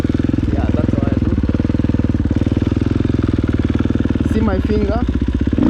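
A KTM 450 motorcycle engine runs with a loud, pulsing, low mechanical chug throughout, and short rising revs come near the start and again near the end. Someone talks over it.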